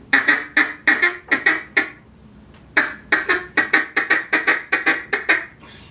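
A hand-blown duck call mimics a feeding duck with a rapid run of loud, nasal quacks, a brief pause, then another long, evenly paced burst of quacks.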